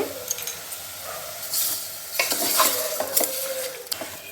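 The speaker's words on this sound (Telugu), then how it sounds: "బాగా వేపుకునేద్దాం" Chicken pieces with rock salt sizzle and crackle in a frying pan, stirred with a few clinks of the utensil against the pan, close and alone with no talk.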